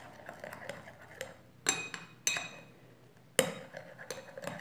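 Spoon scraping and clinking against a bowl while toothpaste is mixed into a homemade cracked-heel remedy, soft stirring broken by a few sharp clinks, near and with no voices.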